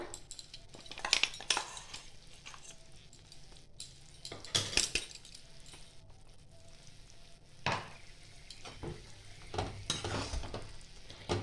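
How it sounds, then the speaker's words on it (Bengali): Spices being stirred into a plum (kul) pickle cooking in a pan: a spoon scrapes and clinks against the metal in uneven strokes over a soft, continuous sizzle. "মশলাটা দিয়েও একটু ভালো করে নাড়িয়ে নিতে হবে"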